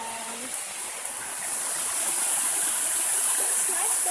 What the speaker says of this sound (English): this is Pulosari Waterfall